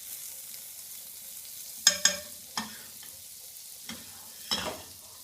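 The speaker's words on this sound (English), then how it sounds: "We're going to grab a little bit more butter and drop it in the pan." Butter dropped into a hot frying pan while cooking a breakfast sandwich: faint sizzling with a few sharp scrapes and taps of a utensil against the pan, no talking.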